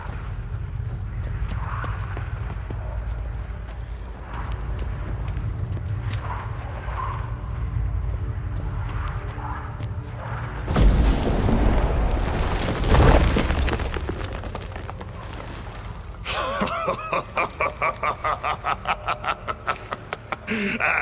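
Stalagmites shattering in The Witcher 3: Wild Hunt: after low rumbling ambience, a heavy burst of crashing rock lands, then a second loud crash, followed by a rapid rattling series of clattering impacts.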